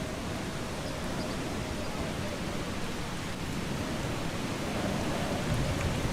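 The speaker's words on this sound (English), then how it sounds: "Oh, it's raining again. It's gonna be really loud." Steady rain pours down in the video game Eastshade, a dense, even hiss that holds unchanged throughout with no pauses.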